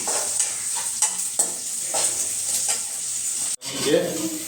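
Onions sauté in a pan for sambar, a steady bright sizzle of frying with a few scraping stirs of a spoon against the pan, briefly cut off near the end before resuming.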